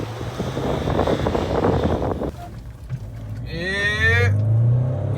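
A Mahindra Thar Roxx diesel engine rumbles unevenly, then revs hard, its pitch climbing steeply in a rising whine before holding high and loud.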